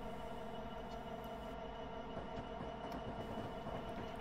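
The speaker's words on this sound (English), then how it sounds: "This one's actually leading a train, it looks like." A train rumbles past steadily on Cajon Pass in the Train Sim Classic game, a continuous low rolling roar with faint wheel clatter and occasional squeal, no voices.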